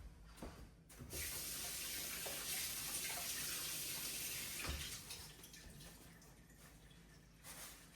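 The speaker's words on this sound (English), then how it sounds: "wash my hands." Water runs steadily from a kitchen tap for handwashing after mixing ground turkey, a broad continuous hiss with brief splashes and shifts as hands move under the stream, fairly close and alone without talk.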